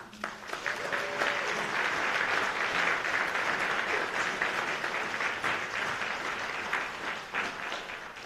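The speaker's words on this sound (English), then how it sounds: "Let's do one more big round of applause for all of you leaders and advocates that received awards." At a national military association gala, a large audience gives a full round of applause for award-winning leaders and advocates, a dense wash of clapping that swells quickly and holds before easing slightly.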